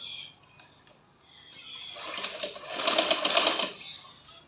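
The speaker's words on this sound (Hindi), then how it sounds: "अब मैं इसको सिलाई लगा रही हूँ बीच वाली जो लास्टिक पे लगती है" A sewing machine runs a seam along the elastic of a ladies' lehenga, starting as faint slow stitching and then speeding into a steady, loud whirring run before slowing again near the end.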